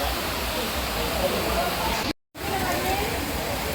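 Rain pours down steadily at an outdoor market stall, a dense, even hiss filling the scene from start to finish apart from one brief cut to silence.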